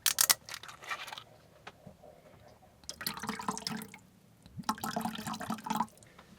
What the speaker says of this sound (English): I'm gonna add a couple tablespoons of this raw apple cider vinegar.